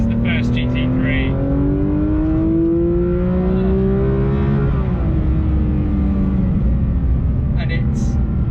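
A 2026 Porsche 911 GT3 Touring accelerates hard, its flat-six engine climbing through the revs in a loud, close rising howl, shifting once and pulling again, with a voice speaking over it.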